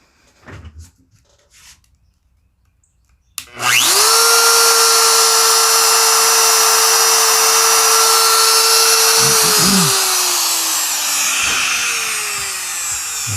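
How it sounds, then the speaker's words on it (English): A plunge router cutting letters into a wooden sign starts abruptly and runs as a loud, steady high-pitched whine with a sustained tone, then winds down near the end as the motor slows, with no speech. "So I'll set the depth for that, and then I'll lift the router to do the smaller stuff."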